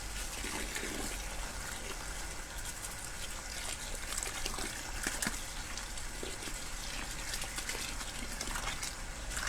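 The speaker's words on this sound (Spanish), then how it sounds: "le vamos a agregar 18 litros de agua" Water gushes steadily into a bucket holding about 2 kilos of compost, 18 litres being added for a fertilizer ferment; a continuous, close, broadband splashing and pouring runs throughout with no speech.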